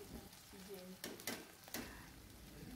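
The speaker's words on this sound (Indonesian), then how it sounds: "kita masukkan jengkol yang udah kita goreng tadi" Fried jengkol beans tipped into a hot pan for spicy sambal and stirred, giving a steady close sizzle with a few sharp scraping clatters of the spatula partway through.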